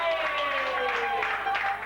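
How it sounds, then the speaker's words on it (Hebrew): Applause from guests at a grandmother's 95th birthday party, a brief burst of clapping mixed with a voice speaking over it. "אז תמחאו להם כפיים!"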